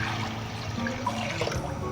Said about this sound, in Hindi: इसके अंदर हम पानी ऐड कर रहे हैं।